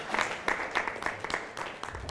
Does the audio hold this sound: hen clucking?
no